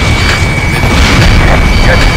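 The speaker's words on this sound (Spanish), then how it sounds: "Fuego antiaéreo muy intenso." Heavy anti-aircraft fire and explosions boom continuously in the Ace Combat Assault Horizon video game, a loud, dense rumble of blasts with no clear gaps.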